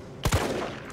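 Gunfire in the video game Resident Evil 3 Remake, two quick close shots in rapid succession followed by a brief fading tail.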